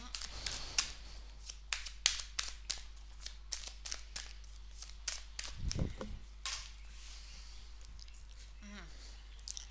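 Tarot cards are laid down and handled on a table, making faint, scattered slaps and soft shuffling flicks in an otherwise quiet room.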